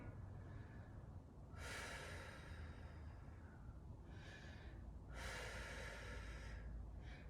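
Heavy breaths from a person holding a yoga lunge come in a few slow, soft bursts of rushing air, faint and close against a quiet room.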